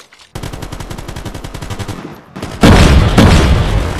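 In Call of Duty Mobile, a rapid machine-gun burst rattles for about two seconds, then a loud frag grenade blast booms and rumbles away amid the firefight.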